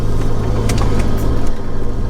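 A car drives along a road in two-wheel drive, its steady engine and road rumble holding evenly throughout at close range, with no talking.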